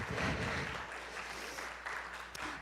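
Audience applause for a musician at a community gathering, a steady wash of clapping that holds fairly even for a few seconds before easing slightly.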